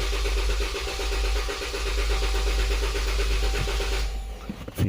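A 2014 Dodge Durango 3.6L engine cranking over on the starter during a cylinder 4 misfire check, a loud rhythmic chugging for about four seconds before it cuts off, followed by brief clicks and quiet.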